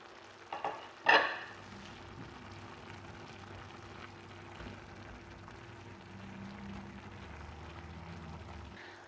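Chicken pastry filling with glass noodles, scallions and celery stirred in a frying pan: a couple of sharp scrapes at first, then a quiet, even sizzle throughout.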